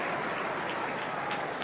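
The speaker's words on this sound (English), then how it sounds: "A little ripple of applause" Light, scattered applause from a rugby crowd at an Ulster versus Zebre match, a steady soft patter of clapping heard from a distance with no voices over it.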